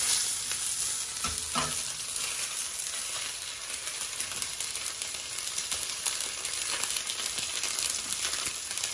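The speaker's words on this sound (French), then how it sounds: "Voilà, la poêle est bien chaude. On va poser juste notre langouste comme ça. On va la dorer bien gentiment." Spiny lobster searing in a very hot frying pan gives a steady, dense sizzle throughout, with a few brief clattering touches early on.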